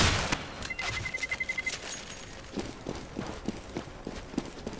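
Automatic gunfire in Counter-Strike, quick bursts of rapid shots followed by scattered single cracks and thuds, fairly faint amid game sounds.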